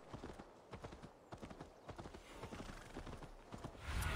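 A horse's hooves clatter in a quick, regular clip-clop rhythm in Assassin's Creed Valhalla, moderately close. A brief whinny or louder burst comes near the end, with little talk over it.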